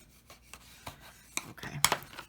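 A bone folder rubbed and scraped across craft paper in a few short, dry strokes, close and fairly quiet, growing firmer toward the end.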